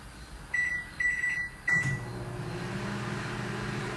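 Microwave oven running with an eggplant pie baking inside, a steady close hum after a few short beeps and a click, no voices.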